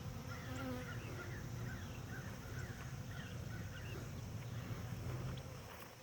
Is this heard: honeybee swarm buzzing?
yes